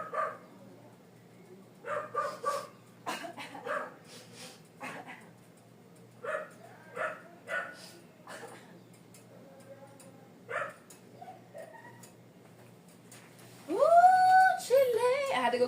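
A dog barks and yips in short, scattered bursts, fairly close, while a person talks intermittently, ending with a louder run of whining yelps.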